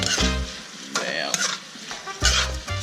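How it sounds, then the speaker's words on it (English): Rice stirred in a hot pot over high heat scrapes and rustles steadily against a continuous sizzle, loud and close, with heavier scraping bursts near the start and end; no talk. "So you just want to keep mixing until you see the rice takes all the color."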